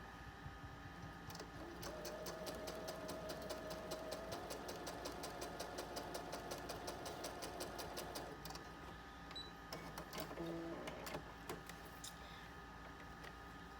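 A sewing machine chain-pieces small quilt pieces for a nine-patch table runner, running in fast bursts of rapid needle stitching separated by short pauses and a few clicks, close and alone without talk.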